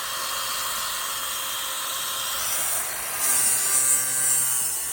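Bondo or fiberglass body filler being sanded off with 40-grit abrasive, a steady close whirring grind with a brief higher-pitched whine near the end, no talking.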